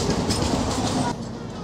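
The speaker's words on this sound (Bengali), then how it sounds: "একটা লোকাল ট্রেন আমাদের ওভারটেক করে বেরিয়ে চলে যাচ্ছে" A local train overtakes and rushes past on an Indian suburban line toward Barrackpore, a dense, close rumble with rail clatter that drops off abruptly near the end.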